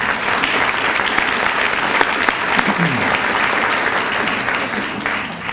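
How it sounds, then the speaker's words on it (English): Banquet audience applauding hall of fame honorees at a Junior Achievement anniversary celebration, sustained crowd clapping filling the room, fairly loud and even, with a faint voice briefly beneath. "Let's give them a big round of applause."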